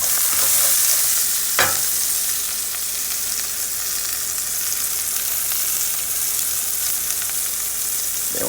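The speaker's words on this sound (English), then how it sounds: "I threw the onions in here. And I'm going to saute those until they got nice and golden brown" Chopped onions sauté in a pan for a Portuguese seafood stew, giving a steady, loud sizzle close by, with a brief clatter of stirring early on.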